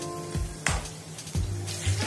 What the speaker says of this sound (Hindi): अब हम इन पीसेस को टर्न करेंगे और दूसरी तरफ से भी 5 मिनट फ्राई कर लेंगे ऑयल में।